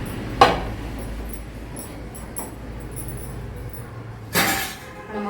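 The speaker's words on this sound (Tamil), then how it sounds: "இப்போ இந்த பிரியாணி பாத்திரம் வந்து இது மேலே வச்சுக்கலாம்." Two sharp metallic clanks a few seconds apart as a heavy biryani pot is set down onto an iron griddle, with quiet in between.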